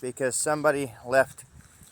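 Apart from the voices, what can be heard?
No everyday noises stand out.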